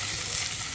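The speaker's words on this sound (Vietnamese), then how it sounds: "chiên thêm cái miếng cá ăn còn dư" Leftover piece of fish frying in a pan in a home kitchen, giving a steady, continuous sizzle and hiss close by, with no talking over it.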